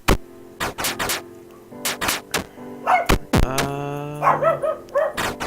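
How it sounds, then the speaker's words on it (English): Dogs in a prison video game bark repeatedly in sharp bursts, some close and loud, others yipping, with a thunk and brief whimpers between the barks. "ignore the dogs"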